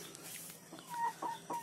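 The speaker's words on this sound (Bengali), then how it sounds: "এই যে আমার শখের টাইগার মুরগি" A tiger chicken hen gives a few short, soft clucks in quick succession, fairly close, over a quiet background.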